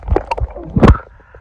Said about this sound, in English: now I'm attempting to swim back to shore